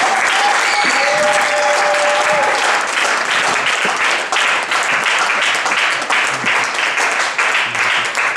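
A church congregation breaks into sustained applause for the Lord, a loud, continuous wash of clapping from a full room with faint voices underneath.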